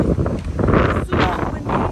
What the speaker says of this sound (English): But it's pretty windy though.